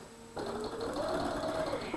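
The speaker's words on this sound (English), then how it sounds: "once I get it under the machine at my 1/4 inch, it pretty much is a straight seam that I'm sewing." A domestic sewing machine stitches a straight quarter-inch seam on quilt fabric, a steady whirring hum that starts abruptly and runs close and continuous for about two seconds.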